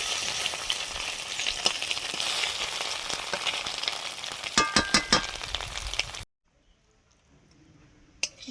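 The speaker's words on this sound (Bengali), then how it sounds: "লঙ্কা পেঁয়াজ দিয়ে ভাজা করে নিচ্ছি।" Fish roe sizzles in hot oil with chili and onion, a steady, close frying hiss broken by a few stirring clinks. It stops abruptly, leaving near silence with one faint knock.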